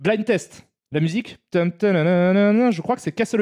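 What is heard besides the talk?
No distinct noise like a dog, phone or traffic.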